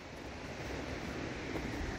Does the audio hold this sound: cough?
no